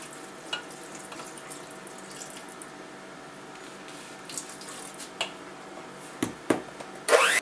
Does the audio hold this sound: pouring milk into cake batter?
yes